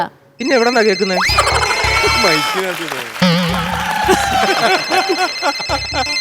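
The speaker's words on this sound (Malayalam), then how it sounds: "സാറിന്റെ ഫോൺ ബെല്ല് അടിക്കുന്നു" A phone rings with a bright, repeating electronic tone while several voices talk loudly around it.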